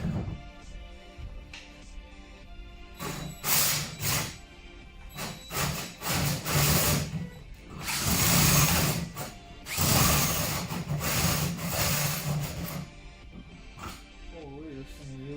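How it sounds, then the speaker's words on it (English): A pilot bit drilling through the hood of an S13 240SX, several bursts of whining, grinding drill noise separated by short pauses, close and loud, with a voice talking in the gaps. "as I'm drilling through with that pilot bit"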